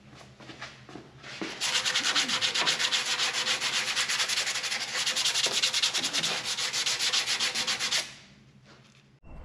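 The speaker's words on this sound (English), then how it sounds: "Might have to get some sandpaper on that." A 1962 Chevrolet C10 exhaust pipe is rubbed with sandpaper in quick repeated back-and-forth strokes, a loud close rasping that runs for several seconds and then stops.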